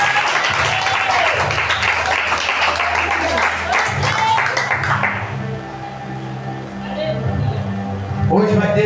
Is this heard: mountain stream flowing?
no